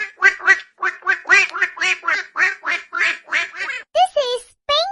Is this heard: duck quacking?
yes